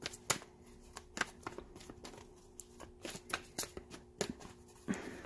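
Tarot cards shuffled and drawn by hand, a run of quick, crisp riffling snaps and soft slides at an uneven rhythm, close and fairly quiet with no talking.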